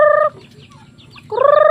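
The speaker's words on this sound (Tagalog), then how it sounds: "Dito yung mga bibe natin." Domestic ducks squawk loudly as they are fed, two harsh harmonic calls bracketing a brief quieter gap, with no talk over them.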